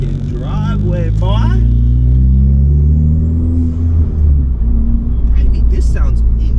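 A Ford Focus MK3 with a SideWinder turbo kit rumbles up close with a deep, loud engine drone that swells as it revs, and people talk over it.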